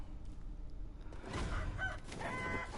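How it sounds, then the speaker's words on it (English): Rooster crowing in the video game Sekiro: Shadows Die Twice, a loud, sudden call that begins about halfway in over a low game ambience and rings out to the end. "you scared me, you stupid rooster"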